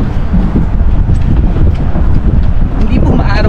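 Strong wind buffets the microphone on the Sean O'Casey Bridge over the River Liffey in Dublin city, a steady loud rumble running the whole time under cloudy skies.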